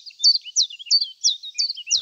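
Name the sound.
common chiffchaff singing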